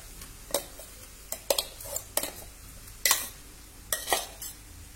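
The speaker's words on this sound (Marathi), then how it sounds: "लाल तिखट मिक्स करू, वाटलेले कणसाचे दाणे" A spoon scrapes and clinks against a pan while ground corn kernels are stirred with red chili powder and turmeric, with irregular sharp metallic knocks over a faint sizzle and no talk.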